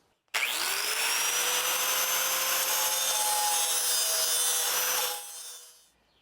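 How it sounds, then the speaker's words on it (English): Grinder taking metal off the side of a lawnmower blade to balance it: a loud, steady abrasive whine and hiss running continuously for about five seconds, then winding down to silence. "I'm going to grind a little bit more of the surface off of this side of the blade to balance it."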